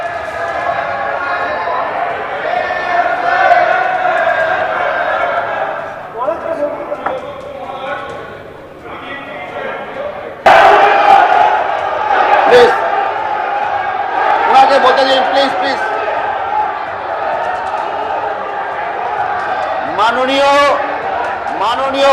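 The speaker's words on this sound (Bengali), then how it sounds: "বিজেপি বিধায়করা হুমায়ুন কবিরের বিরুদ্ধে স্লোগান দেন" BJP MLAs chanting slogans against Humayun Kabir in the state assembly, a loud rhythmic babble of many voices with a sharp surge partway through and speech throughout.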